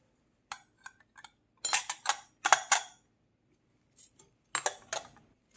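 A plate clinks and scrapes against a container as it is pressed down onto salmon marinating in soy sauce, in a few short, close clattering bursts separated by quiet pauses.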